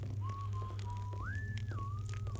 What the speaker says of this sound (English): Oh yeah, I can hear the servant whistling.